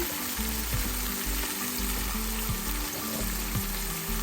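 Bitter gourd (ampalaya) sizzling as it fries in a pan with oil, a steady loud crackling hiss with low thumps of stirring at intervals, no talk.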